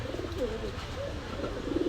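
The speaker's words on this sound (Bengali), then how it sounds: "নাকটানা খুব সুন্দর কোয়ালিটির কবুতর।" A pair of Naktana Kaldom pigeons at a pigeon market coo softly in low rolling phrases over a steady background hum of crowd and room noise.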